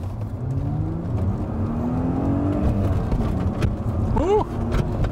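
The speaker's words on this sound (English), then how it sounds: "Okay, should we see how she accelerates?" A Chrysler Crossfire V6 sports car with a six-speed manual pulls away on a test track, its engine note rising steadily as it accelerates through the gears, heard from inside the cabin with people talking over it.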